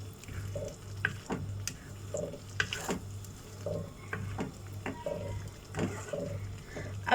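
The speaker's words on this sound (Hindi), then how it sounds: "ये मसाला भून रहा है" Masala frying in a pan for a malai chicken seekh biryani, giving a steady low sizzle with repeated scraping stir strokes at a regular rhythm, close and moderately quiet, with no talking.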